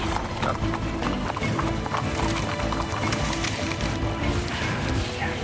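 Horse hooves clip-clop over rocky, rough country ground in an uneven walking rhythm, set against outdoor ambience with a few faint bird calls.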